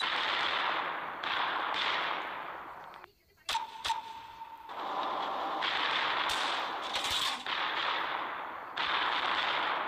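Warship guns fire in the Battle of Warships naval game, a steady roar of repeated sharp cannon blasts with a couple of distinct louder bangs, all over continuous battle noise.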